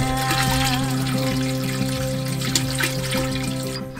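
Water runs from a tap into a water tank on an overlanding van in Morocco, a steady loud trickle and splash with rising tonal ringing as the container fills, close and continuous.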